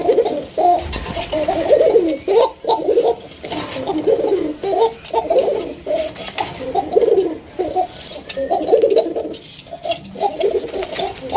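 A pair of Gola pigeons cooing close by, repeated throaty rolling coos in steady overlapping bursts.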